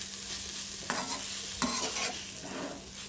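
Banana flower bhaji cooking in a pan, a quiet continuous sizzle interrupted by two distinct stirring scrapes of a spoon against the pan, then softer stirring.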